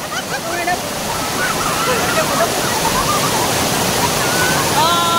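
Rushing water at Bhushi Dam in Lonavala pours in a steady, loud roar, with people chattering and calling out over it throughout.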